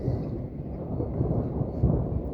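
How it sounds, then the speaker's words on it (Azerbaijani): Thunder in the mountains rolls as a low, continuous rumble that swells slightly near the end, moderately loud with no voices. "Dağda ildırım tez-tez düşür."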